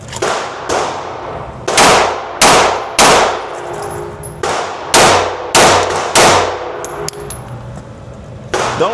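Handgun shots ring out against a steel target on an outdoor range during an armed guard qualification at 15 yards, about a dozen loud cracks, each followed by a metallic clang, fired at a steady pace in quick pairs.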